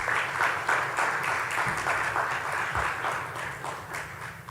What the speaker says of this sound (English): I think you can all give yourselves a round of applause.